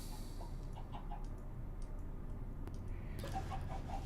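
Chickens from a chicken machine in a Minecraft-style video game cluck softly and repeatedly over a constant noisy hum, the clucks faint and spread through the clip.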